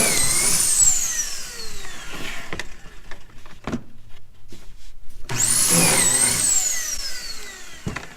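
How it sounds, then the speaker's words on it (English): A Kreg Foreman pocket hole machine drills pocket holes into wood. Two loud, whining bursts of its motor rise and fall, separated by a brief quiet gap, up close and with no talking. "when you pull this lever down, it creates a pocket hole underneath"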